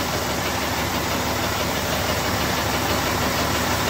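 Vehicle engine running, a loud steady mechanical drone with a faint knocking texture, unchanging throughout and without voices.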